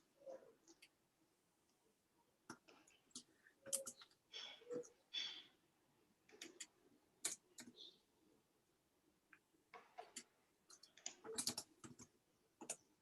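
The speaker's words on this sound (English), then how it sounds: "We're busily typing now." Several people typing on computer keyboards, with scattered clicky keystrokes in irregular bursts, soft and fairly close, in a quiet room without speech.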